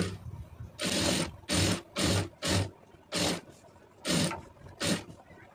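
A sewing machine stitches thread piping in short bursts, seven loud runs of rapid mechanical whirring separated by brief pauses, close up with no talking.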